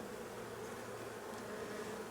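Honey bees hum in a steady low drone around an open hive during a frame inspection, a soft, continuous buzz with no pauses that stays at an even level throughout.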